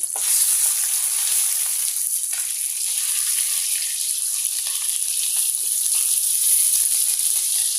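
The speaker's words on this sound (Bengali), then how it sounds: "আটটা মাছ নিয়েছিলাম চারটা দিয়ে দিয়েছি ভাজার জন্য" Bata fish frying in hot oil, four pieces in the pan, giving a loud, steady crackling sizzle with tiny pops throughout, close by and alone without talk.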